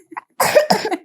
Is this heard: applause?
no